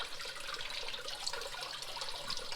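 Water flowing through a gold sluice on the Kern River, a continuous close splashing and gurgling rush with small bubbling variations and no speech.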